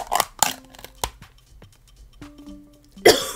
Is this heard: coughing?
yes